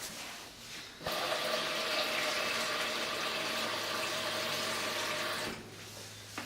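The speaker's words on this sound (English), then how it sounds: "I'm going to put water inside the pan up to the rack" Water gushes steadily from a tap into a steamer pan, filling it up to the rack for several seconds, then cuts off, leaving quiet room tone.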